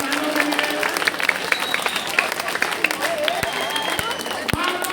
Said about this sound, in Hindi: आप सभी बच्चे के लिए एक साथ ताली बजा दीजिए